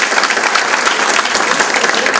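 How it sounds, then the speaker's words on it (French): An audience claps together at an evening tribute gala honouring volunteers, steady, dense applause filling the room without a break for the whole stretch. "Alors, une bonne main d'applaudissements."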